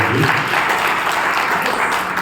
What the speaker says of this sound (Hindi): भाई लोग बहनों के थोड़ा तालियां तो बजा दो